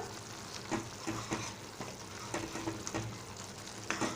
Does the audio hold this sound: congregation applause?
no